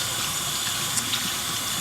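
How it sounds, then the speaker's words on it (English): Tap water runs steadily into a sink while a hair dye brush and gloves are rinsed under it, a soft continuous splashing hiss with a couple of brief clinks. "Let me wash my brush, my gloves."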